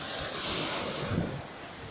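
Sea waves and wind along the Amalfi coast on a sunny day, a continuous broad wash of surf with wind buffeting the microphone, one brief swell near the middle, no talk.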